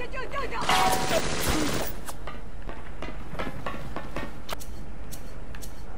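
Tommy gun fire from a splicer enemy in BioShock: a dense burst of rapid shots early on, then scattered sharp cracks and clatter through the rest, with some faint game sound beneath.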